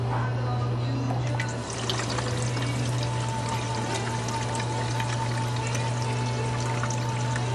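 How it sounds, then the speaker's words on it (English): Gasoline is poured into the fuel tank of a Tecumseh lawnmower, a steady, close liquid stream running for several seconds over a constant low hum. "Ready for a little gas."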